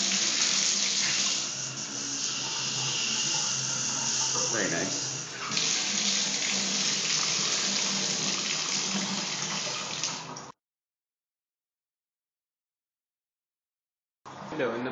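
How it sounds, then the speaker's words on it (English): Shower in a bathroom running at very high water pressure, a loud steady hiss of spray that stops abruptly for a few seconds and then resumes, with a brief spoken comment over it. "fun shower with very high water pressure."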